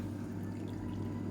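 Water pours steadily and continuously from a cup into a horse gram mixture in a kitchen, a constant close splashing rush with a low hum underneath.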